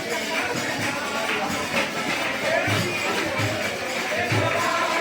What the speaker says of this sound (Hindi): भीड़ तो ज़्यादा है और यहाँ कीर्तन भी हो रहा है